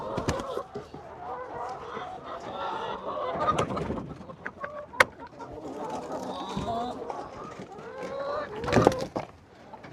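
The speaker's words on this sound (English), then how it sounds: "Chickens are ready to come out." Egg-laying hens cluck and murmur in a busy barnyard on a farm as they are let out to pasture, with scattered bird calls and occasional rustling, sounding close and steady with talk mixed in.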